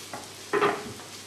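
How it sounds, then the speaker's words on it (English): Potatoes stirred in a cooking pot: a soft scrape, then a louder brief rustle and sizzle from the spoon moving through them, close and fairly faint, with no talk. "Lots of stirring in this part."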